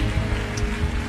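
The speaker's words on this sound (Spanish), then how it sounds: "Aplauso fuerte" Loud, dense applause from a large crowd at a Christian worship concert, a steady wash of clapping with no break.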